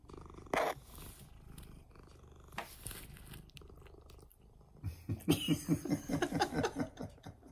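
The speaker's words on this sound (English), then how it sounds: "He's all purrs still." A cat purrs softly and close, with a steady low rumble broken by a few louder bumps and then a rhythmic, pulsing stretch near the end.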